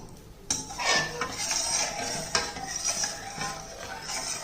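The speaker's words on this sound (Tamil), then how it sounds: "இப்போ வந்து நம்ம அரைச்ச மாவை இதில் ஊற்றுவோம்." Ground batter poured into a metal pan and stirred, with continuous scraping and clinking of a utensil against the pan and a soft sizzle underneath, close and steady.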